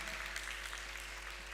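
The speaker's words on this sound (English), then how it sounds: "Another big round of applause for AfriSem." Audience applause at a municipal matric awards ceremony, heard as a faint, distant wash of clapping under a constant low electrical hum, short and steady.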